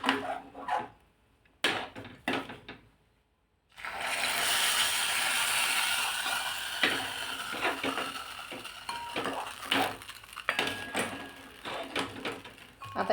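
A wheat kheer mixture being stirred in a pot, with scattered metallic clinks and scrapes of a spoon against the pot, soft and close, alternating with a steady hiss of cooking.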